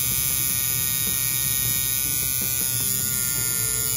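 Tattoo coil machine running at low voltage, a continuous tinny electric buzz close by with a harsh, bright rattle and no pauses.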